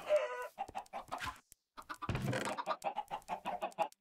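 Minecraft chickens cluck repeatedly in short rhythmic bursts, fairly close, with a brief silent gap midway and a rustling noise just after it.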